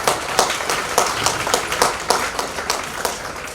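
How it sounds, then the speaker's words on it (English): A small group applauds at a school event with clearly separate, rhythmic claps at close range, fairly loud and even, and no talking. "Every single person who has been associated with Alphabet School deserves a big round of applause"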